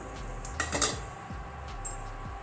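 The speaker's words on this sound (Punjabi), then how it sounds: "ਵਿੱਚ ਆਪਾਂ ਲੱਕੜ ਦੀ ਕੜਛੀ ਨੂੰ ਫੇਰ ਦਵਾਂਗੇ ਉਲਟਾ ਕਰਕੇ" A wooden ladle scrapes and knocks inside a cooking pot of turnips in a few soft clattering strokes over a steady low background hum.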